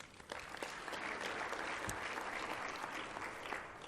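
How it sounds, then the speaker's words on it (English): An audience at the 2016 general meeting in Rwanda gives a round of applause, a dense, steady wash of many hands clapping at once that holds evenly for about four seconds with no speech over it. "Let us give them a round of applause, please."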